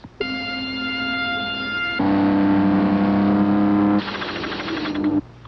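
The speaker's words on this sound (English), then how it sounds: "All these flashy Formula One cars invade our quiet country. I mean all the noise." Formula One racing cars from the late 1980s scream past in three successive bursts, each a loud, steady, high-pitched engine whine at a different pitch, with no talking.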